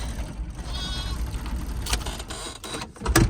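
A lamb bleats in a paddock of ewes and triplet lambs: a short, thin cry rises over steady outdoor background noise, with brief rustling and a louder close bump at the end.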